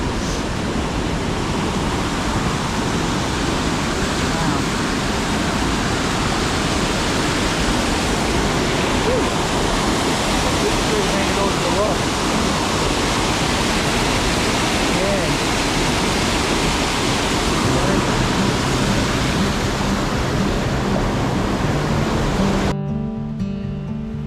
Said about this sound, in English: so much water coming down off the mountains